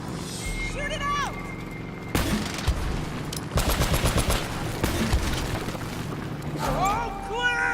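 Gunfire from a shootout in the video game Uncharted: Drake's Fortune, with rapid bursts of shots over game music and effects, loud and close, followed by a player talking.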